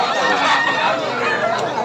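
A crowd of chickens and roosters at a poultry spot in Bocaue clucks and chatters continuously, with overlapping calls close by and loud, over a busy background.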